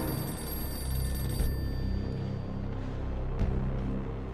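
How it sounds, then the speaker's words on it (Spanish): A telephone rings in a castle during a World War II battle, its thin bell ringing steadily under a dense wash of background noise with a couple of dull thuds. "El teléfono del castillo suena."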